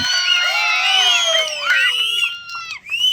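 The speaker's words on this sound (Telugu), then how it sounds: "పవన్ కళ్యాణ్కి గట్టిగా చప్పట్లతో స్వాగతిద్దాం" A large political rally crowd welcoming Pawan Kalyan erupts in loud, dense cheering, whistles and shrill screams, sustained and close before dipping near the end.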